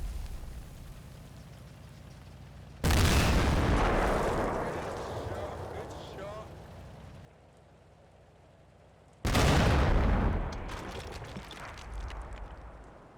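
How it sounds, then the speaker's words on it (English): British 6-pounder anti-tank guns in Combat Mission fire on a Panzer IV in two loud, booming blasts several seconds apart, each followed by a long rumbling decay. "As the smoke clears, they open fire."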